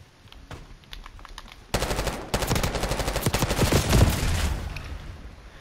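Submachine gun fire rattles in a Call of Duty match, starting with a few scattered shots, then sustained rapid bursts that are loud and close for several seconds.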